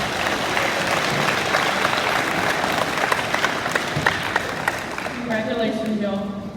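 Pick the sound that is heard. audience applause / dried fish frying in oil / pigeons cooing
audience applause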